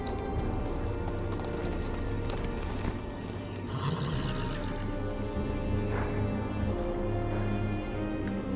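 Horse hooves clip-clop in a steady rhythm over a dense Game of Thrones video game soundscape, with a low hum and occasional faint whinnies and clatter.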